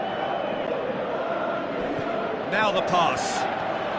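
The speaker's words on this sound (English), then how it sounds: "Crowd calling for him to shoot." Stadium crowd in a PS4 football video game rising in a swelling chant urging a player to shoot, steady crowd noise under a commentator's voice, with whistles and shouts near the end.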